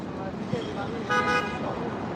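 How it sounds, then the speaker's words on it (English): A car horn toots briefly amid New York City street traffic noise, with a harmonic honk standing out near the middle; background voices murmur. "Why are they honking?"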